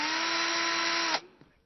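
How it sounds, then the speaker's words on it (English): A power drill partially bores screw holes through a mounting bracket held in position, a steady high whine running for about a second before it cuts off abruptly and a faint clunk follows. "by only partially drilling the holes with the mount in position"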